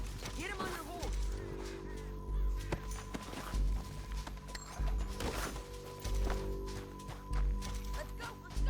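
Rhythmic hoof clops of a galloping horse patter along at a steady pace amid a busy Red Dead Redemption 2 game soundscape, with a faint voice in the mix.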